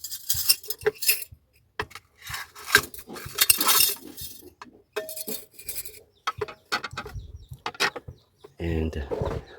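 Material from an old Yamaha organ is dropped into a glass beaker during gold recovery, making close, sharp clinks and rattles in irregular bursts separated by short silences.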